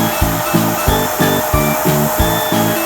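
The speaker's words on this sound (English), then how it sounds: "Here's a side view showing the cleaner solution being sprayed and suctioned up." A carpet cleaning vacuum runs with a steady whooshing roar while cleaner solution is sprayed onto a rug, with a rhythmic pulsing pattern repeating about every third of a second.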